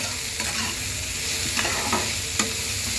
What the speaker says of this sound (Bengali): এখন এটা ভালো করে ভাজা করে